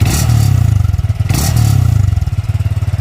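Yamaha VF3i motorcycle fitted with a TS Racing super back-pressure exhaust revs repeatedly, a loud, close, throbbing engine note rising and falling in pulses with a sharp, ringing edge at the top of each rev.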